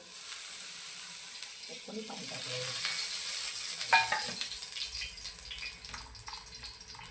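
Eggplant chips frying in hot oil, a steady bright sizzle that swells as more slices drop in, with faint clinks and handling sounds and some quiet talk.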